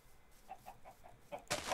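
Several short, soft chicken clucks repeat at a steady pace in a Minecraft UHC game, followed by a sudden louder burst of broadband noise.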